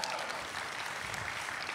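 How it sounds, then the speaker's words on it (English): An audience at an International Women's Day celebration gives a round of applause, with steady crowd clapping that sounds soft and somewhat distant and holds evenly throughout. "Can we have a round of applause for that quote?"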